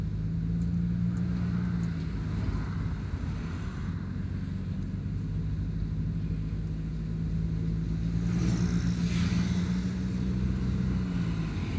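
Steady, close traffic rumble of cars and motorcycles passing at a town intersection, with a continuous low engine drone and some wind buffeting throughout.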